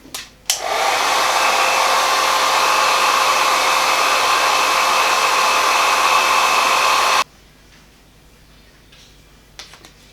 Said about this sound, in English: Take my blow dryer once more.